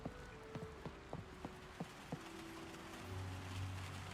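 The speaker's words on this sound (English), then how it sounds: "you can hear the rain hitting on the windows" Rain taps against house windows, heard from indoors as a run of sharp, irregular drops and knocks over a soft, steady wash, fairly quiet and with no voices.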